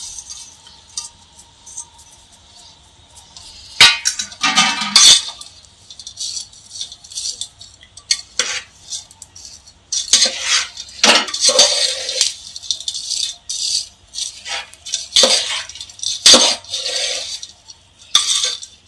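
Makhana and gond tossed together in a pan give off irregular dry rattles and clinks, with bursts of scraping and knocking against the metal between short quiet gaps.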